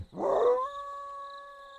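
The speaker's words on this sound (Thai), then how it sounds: "หมาก็เห่าหอนเรื่อยๆทั้งคืน" A lone dog lets out a single howl at night. It opens with a rough yelp, then settles into a sustained, wavering tone that carries on, fairly close and alone.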